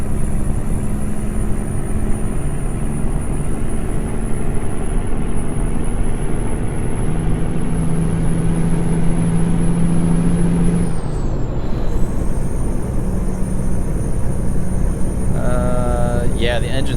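Steady, loud truck engine drone from an American Truck Simulator rig cruising on the highway, a continuous rumble with a high whine above it, some hiss near the end, and people talking over it.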